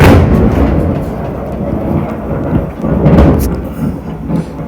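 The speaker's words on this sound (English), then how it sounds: "Sorry for the lightning, it's raining over here." Thunder during a rainstorm, a loud, deep rumbling roll that swells and fades over several seconds over a steady wash of rain, with no voices.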